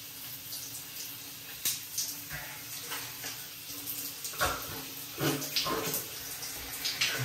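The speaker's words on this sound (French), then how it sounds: "tu ouvres ton robinet, tu fais couler de l'eau sur ton oignon et tu l'épluches." Tap water runs steadily from a faucet over an onion being peeled, a close, continuous splashing with occasional louder spatters and knocks as the onion is handled under the stream.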